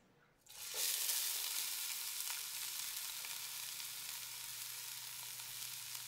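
Sliced onions hit a hot pan and erupt into a sudden hiss that settles into a steady, even sizzle, close and continuous with no speech.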